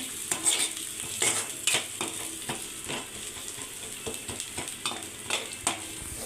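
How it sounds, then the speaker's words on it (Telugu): Garam masala and spices frying in a pan for aloo rice, with a steady close sizzle broken by repeated sharp scrapes and taps of a spatula as the mixture is stirred, no voices. "సో వీటిని కూడా మనం బాగా ఫ్రై చేసేసుకోవాలి ఒక టూ త్రీ మినిట్స్ వరకు ఇలా పెట్టుకుంటూ నీట్గా ఫ్రై చేసుకోవాలి"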